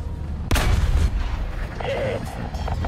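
Artillery strike fire in the War Thunder tank game: a sudden loud blast lands about half a second in, followed by rumbling impacts and ongoing battle noise.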